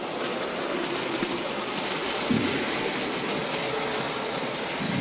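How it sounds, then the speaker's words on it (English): Trix model railway wagons on OO gauge track rolling steadily as a train, a continuous close rumbling rattle with faint rhythmic clicks over rail joints and one brief louder knock midway. "all of these Trix wagons can be run as a train"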